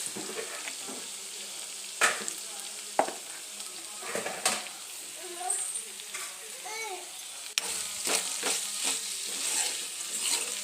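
A broad bean and tomato curry simmers in a pan with a steady, soft sizzle and bubbling, broken by a few sharp clinks of a spoon stirring, while children's voices chatter faintly in the background.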